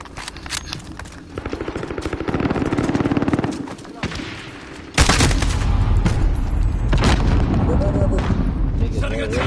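Gunfire and grenade explosions in a PS4 deathmatch shooter: bursts of rapid automatic fire and single shots, then a loud blast that leads into heavy continuous shooting and booms, with someone talking over parts of it.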